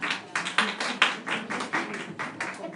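Several people clap to applaud a small group during a gathering, giving a brief, modest round of uneven claps, close and moderately loud, with no voices over it.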